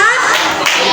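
A group of people clap their hands in a quick burst of applause during a cooking session where pineapple syrup is made, with talk over the clapping.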